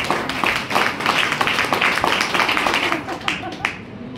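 A Women's Day program audience claps vigorously, producing a thick wash of overlapping claps that thins out toward the end. Voices can be heard mixed in with the applause.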